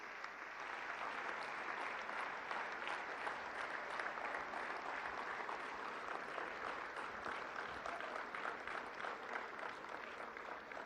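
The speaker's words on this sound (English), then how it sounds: "arendra Modi ji, the architect of New India, for his address with a thunderous round of applause." A large audience at a government investment and innovation summit gives sustained, dense applause after a prime minister's address, steady and loud throughout with no break.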